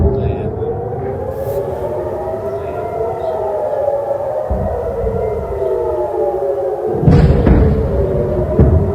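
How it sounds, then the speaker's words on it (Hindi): Air raid sirens wailing during an attack on Israel, a loud, steady civil-defense siren tone that slowly rises and falls, with heavy low rumbling and a thud near the end. "एक और अटैक, सायरन ही सायरन।"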